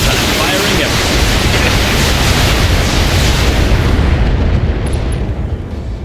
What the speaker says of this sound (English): Heat be damned, I'm firing everything.